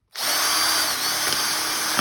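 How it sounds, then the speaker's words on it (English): A power drill whirs loudly and steadily close up, starting abruptly and running continuously without a break. "and then I get my drill"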